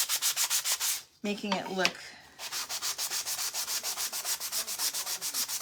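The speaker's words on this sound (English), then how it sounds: "So now I'm just taking my sander and just kind of going over all of it" A power sander runs over a wooden gingerbread Christmas craft in a steady rhythm of loud, close back-and-forth rasping strokes, with a short pause and a brief spoken phrase partway through.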